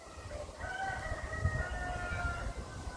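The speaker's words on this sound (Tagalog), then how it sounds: "Baka doon ang kulungan ng mga manok. Kasi malapit na pakinggan." A rooster crows from somewhere near a chicken coop on a hillside path, its drawn-out call rising and holding for a couple of seconds at moderate distance over a low rumbling outdoor background.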